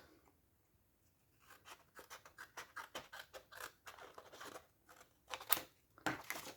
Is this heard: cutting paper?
yes